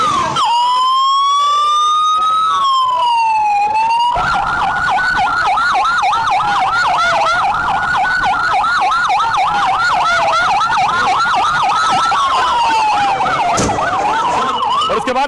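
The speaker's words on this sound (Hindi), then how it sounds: "फौरन एम्बुलेंस आनी शुरू हुई, एम्बुलेंस बुलाई गई, एक के बाद एक दर्जनों एम्बुलेंस नई दिल्ली रेलवे स्टेशन पहुंची।" Ambulance sirens wail continuously, a rising-and-falling tone joined by a faster warbling siren, as ambulances arrive one after another at New Delhi railway station after a stampede, loud and close with road traffic beneath.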